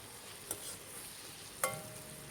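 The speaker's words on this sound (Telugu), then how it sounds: "దీంట్లోకి టమాటో కూడా వేసేసుకుని ఫ్రై చేసుకుందాం చూడండి ఎంత చక్కగా ఫ్రై అవుతుందో" Tomato frying in a pan for chicken leg gravy sizzles softly and continuously, broken by two sharp utensil clinks against the pan.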